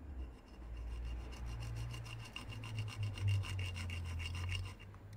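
A saw blade cuts beside a nub on a VW Multivan TDI turbo part, steady back-and-forth strokes in an even rhythm, close and rasping, over a low background hum.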